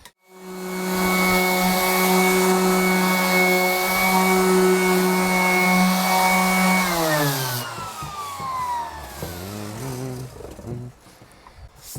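An electric sander whines steadily on an electric guitar body blank for several seconds, then winds down, its pitch falling as it coasts to a stop.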